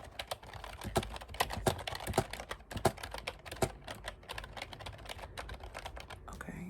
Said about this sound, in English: I'm just going to be typing.